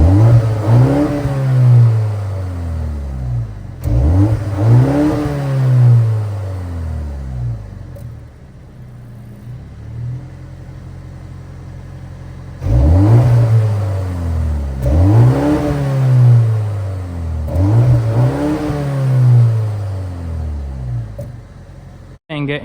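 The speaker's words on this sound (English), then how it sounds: "let's go ahead and hear how that exhaust system sounds" A 2025 BMW M235 Gran Coupe engine revs repeatedly, rising and falling in two bursts of throttle, loud and close, with a deep exhaust rumble idling between the revs.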